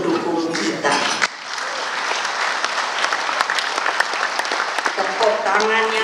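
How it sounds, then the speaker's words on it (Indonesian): An audience at a political rally bursts into big applause after a voice speaks briefly, then keeps up loud, dense clapping with scattered cheers for several seconds before talk resumes. "Tepuk tangan yang besar"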